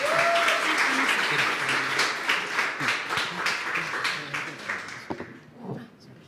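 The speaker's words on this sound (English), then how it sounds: "A big round of applause to the first pitch of the day." A room of attendees at a startup demo day pitch event applauds steadily, dense even clapping that holds loud for several seconds and then tapers off to a few last claps as quiet falls.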